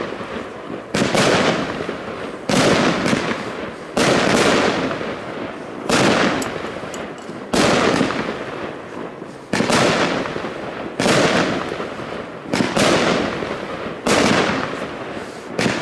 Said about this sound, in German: Hier haben wir große Blinkstern-Bouquets mit Glitter-Effekten in Gold und Multicolor.